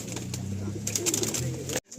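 Abluk pigeons coo in a loft, a steady low throaty murmur from several birds close by, with a brief drop to near silence just before the end.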